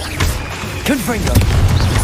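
Confringo fire-blast spells burst in Hogwarts Legacy, a few loud booming pops arriving close together while a voice calls out over a steady game backdrop.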